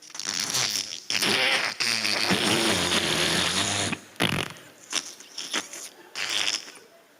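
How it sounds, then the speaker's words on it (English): Loud, wet, sputtering fart noises play as a mock soundscape in a stand-up comedy set, one long continuous run followed by several shorter, choppy bursts, with no voices. "Oh, those are just fart noises."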